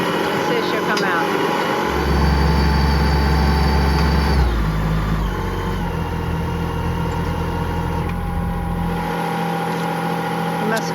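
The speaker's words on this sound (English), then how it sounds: "He didn't turn off the tractor." A tractor engine runs nearby on a farm during livestock fence post work, as a steady loud mechanical hum whose low rumble rises for a few seconds and then drops back.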